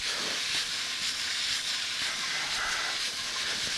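Italian sausage with a teaspoon of black pepper sizzles in a pan, a steady, fairly loud hiss that runs unbroken throughout with no voices over it.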